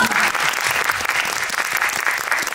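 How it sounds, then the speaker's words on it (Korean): Audience at a film screening talk event claps for an actress's mother, a dense, steady burst of applause filling the room, loud and continuous with little else beneath it. "조여정 배우님 어머님께 박수"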